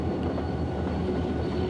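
An Algoma Central tour train rolls slowly at about 20 mph across a curved trestle near a power dam, giving a steady, moderate rumble with soft rhythmic wheel noise and no voices.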